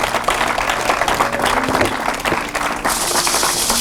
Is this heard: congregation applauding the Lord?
yes